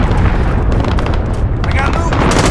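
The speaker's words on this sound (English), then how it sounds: "Cruise missile away." A cruise missile explodes in Call of Duty: Modern Warfare (2019) on the Grazna Raid map, a loud, continuous rumbling blast that fills the whole stretch, with game voices talking over it.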